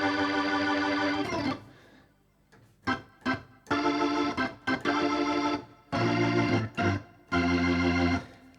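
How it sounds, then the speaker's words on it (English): A heavily distorted B3-style organ preset in Mainstage, Heavy Metal Organ, plays loud sustained chords in bursts with short stabs and gaps between phrases, rich and gritty, with no talking. "I have Mainstage loaded up with a organ sound, a B3 emulation."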